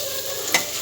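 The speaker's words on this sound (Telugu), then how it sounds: "ఇలా మనం వైట్ రైస్ వేసుకొని మంచిగా కలపాలి." White rice is stirred into an egg mixture sizzling in a pan for egg rice, with a continuous close frying hiss and a single brief scrape of the spoon partway through.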